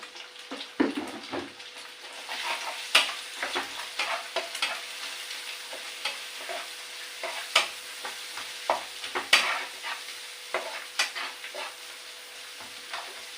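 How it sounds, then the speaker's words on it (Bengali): An egg with a little turmeric fries in a pan under a soft, steady sizzle, while a spoon stirs and scrapes with irregular clicks and knocks throughout. "হালকা একটু হলুদ দেবো ডিম দিচ্ছি"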